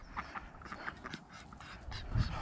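Donald, a pet duck, giving a string of soft nasal quacks and calls at close range in a garden orchard, faint and irregular, with a low thump near the end and no talk.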